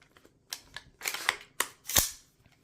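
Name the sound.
AR-15 rifle ambidextrous bolt release being pressed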